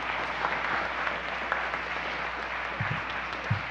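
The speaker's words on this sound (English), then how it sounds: "let's just give a round of applause, appreciation for all who were involved in our service today." A church congregation applauds during an all-ages water communion service, giving a steady, even patter of many hands clapping that carries on throughout, with a few louder low thumps near the end.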